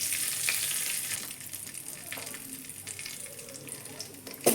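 Bay leaf and five-spice tempering crackling in hot oil with asafoetida for a vegetarian dish, a moderate sizzle that eases off midway, with light clatter and a sharp knock at the end.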